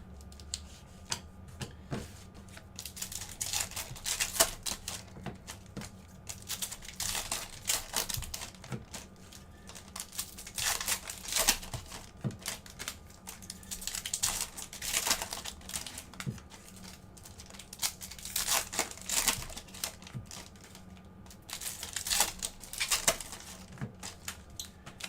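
Foil trading card packs being ripped open during a live break, a run of crisp crinkling tears and rustles at close range, recurring in bursts throughout with no talking.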